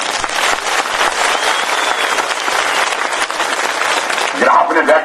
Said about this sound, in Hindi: इसलिए मैं चाहूंगा कि अपने लिए एक ताली जरूर मारो